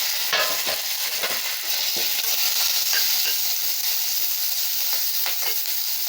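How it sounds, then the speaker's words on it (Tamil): Curry leaves and onion crackle and sizzle in hot oil for a brinjal, drumstick and potato poriyal, a bright, steady hiss with scattered pops as they are stirred. "இப்போ இதில் கருவேப்பிலையை போட்டுக்கலாங்க. போட்டுட்டு இந்த வெங்காயத்தையும் போட்டுடலாங்க."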